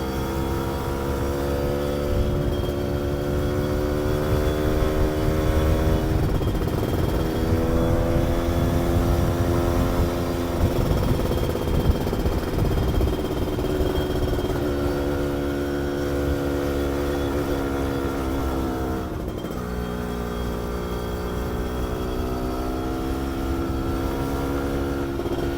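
A Yamaha F1ZR two-stroke motorcycle, fitted with a new oversize standard piston and rebored cylinder, hums steadily under light throttle while riding, its engine tone rising and dipping gently over loud continuous wind and road noise.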